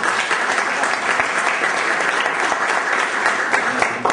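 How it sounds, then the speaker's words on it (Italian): Audience applause at a seminar honoring a colleague, sustained even clapping from a room full of people, loud and continuous throughout. "a cui credo sia giusto rivolgere un bel applauso"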